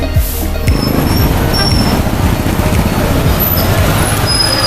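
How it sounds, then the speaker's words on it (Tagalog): Heavy, loud road traffic rolls past close by, with a bus or truck rumbling through and a brief air-brake hiss over a constant roadway roar. "So traffic juga sa karon."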